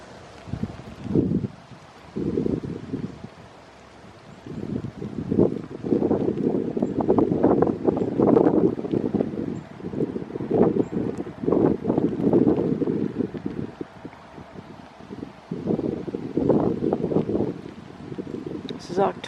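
Strong wind gusts whip across an open spot near railway tracks on a cold, rainy autumn day, roaring in heavy, uneven bursts that buffet the microphone closely and ease off only briefly between waves.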